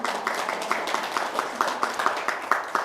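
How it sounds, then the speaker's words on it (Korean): Light rhythmic clapping from an audience at a Buddhist lecture on the Diamond Sutra, a short run of evenly spaced claps, fairly soft and distant with no voices over it. "적절한 타이밍에 박수를 치셨어요."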